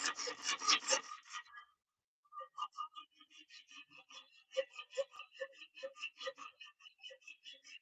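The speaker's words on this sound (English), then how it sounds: "sharpening up some knives here" A K390 steel knife blade is being sharpened, with rhythmic scraping strokes that are faint but close: a quick cluster of strokes, a brief pause, then a steady series of repeated passes.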